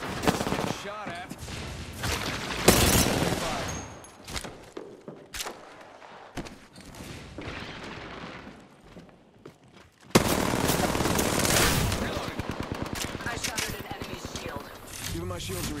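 Video game gunfire in rapid bursts and fusillades, loud and dense, with a sustained heavy volley near the end and footsteps and thuds between shots, while a voice talks over the action.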